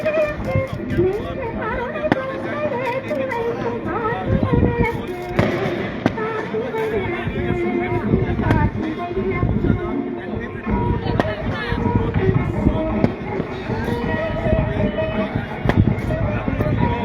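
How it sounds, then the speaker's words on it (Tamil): Firecrackers crackle and pop almost without pause during the Karthigai festival at the Thiruparankundram Subramaniaswamy hill temple in Madurai, loud and close, with crowd chatter and voices mixed underneath. "பட்டாசுலாம் தெரியும்"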